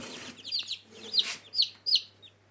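Newly hatched Amrox chicks in a warm brooder box, several high, close peeping chirps in quick irregular bursts over a faint steady hum.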